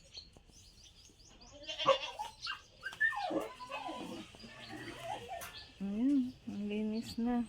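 Goats on a rural farm bleat in short wavering cries, the clearest ones coming near the end, over people talking and other animal sounds in the background.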